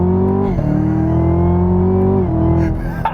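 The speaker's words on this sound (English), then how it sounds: "It really sounds like an old-time muscle car." A 2017 Chevrolet Camaro ZL1 engine drones loudly and close in track mode, its pitch dipping and climbing as the throttle shifts, with a brief rise near the end.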